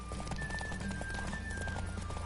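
Galloping horse hooves in The Witcher 3 drum steadily and loud for a brief stretch, layered over game music with a hint of neighing.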